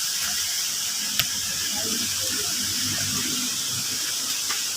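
Palsahingin Falls, a waterfall in Indang, pours in a steady, broadband rush that stays even throughout, with one sharp knock standing out near the start.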